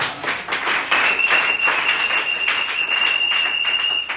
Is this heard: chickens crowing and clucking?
no